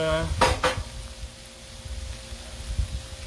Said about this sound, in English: Let's push the rice over a little for the shrimp